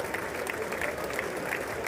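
Scattered applause in Congress during a presidential address to a joint session, faint and thin, sounding like only a few people clapping in a large chamber.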